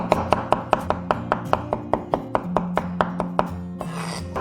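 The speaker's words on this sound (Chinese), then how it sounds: "切成蒜末。" Garlic is minced with a knife on a cutting board, close, quick and steady chops repeating about four to five times a second, alone with no voices.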